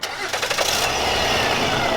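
A 2010 Honda Odyssey with the 3.5-litre i-VTEC VCM engine cranks briefly with a rapid starter chatter, then catches and settles into a steady, close idle for the rest of the moment.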